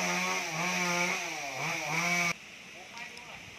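A chainsaw cuts down a tall twenty-year-old eucalyptus tree, its engine buzzing loud and close with revving pitch swings, then abruptly dropping to a quieter idle.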